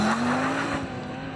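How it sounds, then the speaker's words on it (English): Internal combustion performance car launching hard from a standstill, a steady rising engine drone with tire noise, loud and close throughout the short burst. "here's a montage of me launching some internal combustion engine performance cars with their 0 to 60 times"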